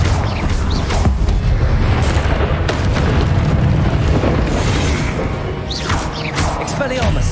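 A Confringo explosion spell goes off in Hogwarts Legacy amid a loud, dense battle mix: booming blasts and crashes sound in quick succession over a constant roaring bed, with spell-casting voices heard at times.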